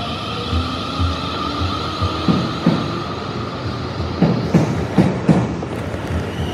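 A South Western Railway Class 450 electric train rolls through Barnes station, its wheels giving a steady series of clickety-clack beats over rail joints above a constant rumble and hum, close by, with no talking.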